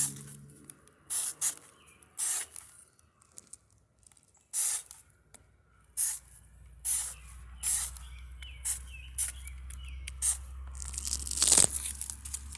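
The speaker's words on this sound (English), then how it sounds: "So I'm going to spray around the middle so that I do not get the color in the middle." Dawn PowerWash spray is pumped onto a ceramic tile in short, close hissing bursts at an uneven rhythm, about a dozen sprays with quiet gaps between them.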